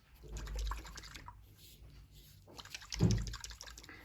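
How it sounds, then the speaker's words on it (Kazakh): Water poured into a bottle of Ospamox suspension powder and swirled to mix, giving soft close liquid sloshes and drips in two short bursts, quiet overall. "Бірінші азғантай су құйып аламыз да, осыны араластырып аламыз."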